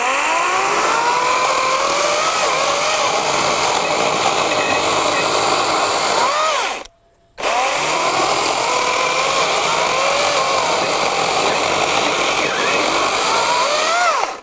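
A battery chainsaw, either a Wild Badger 40-volt or a Stihl MSA 120 C 36-volt, runs and cuts steadily at close range with a loud continuous whine, broken by one brief pause near the middle.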